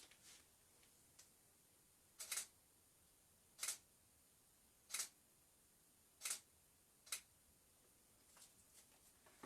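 A camera shutter clicks at a food photo shoot of a cream puff, five or six crisp, quiet releases at roughly even intervals against a faint hiss.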